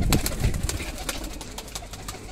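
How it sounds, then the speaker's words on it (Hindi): A red-eyed Jeera pigeon coos close by, its low murmuring broken by a series of sharp taps or wing claps that start strong and then soften. "ये लाल जीरा लाल आँखों का कबूतर है"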